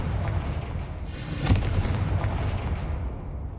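In a video game, the Confringo explosion spell goes off as a single deep boom, followed by a rumbling decay beneath steady loud background noise.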